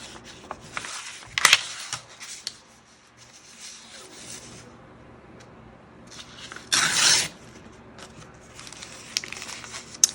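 Scissors cut through a paper bag junk journal, with soft rubbing, paper crinkling and brief snips, and two louder bursts of crumpling stand out amid quieter handling.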